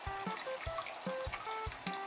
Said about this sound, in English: the water can filter down through the rock, and eventually it can drip right on top of us